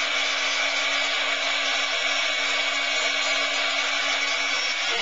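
A heat gun blows steadily to melt embossing powder on chipboard, a loud, even whirring hiss that holds unchanged throughout with no voices.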